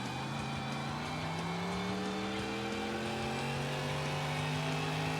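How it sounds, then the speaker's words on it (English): A Chevelle V8 drift car in the racing game CarX Street revs hard through gear shifts, its engine tones climbing and dropping in steady sweeps, loud and close with no talk. "Throttle control, shifting gears, clutch kicking, left foot braking."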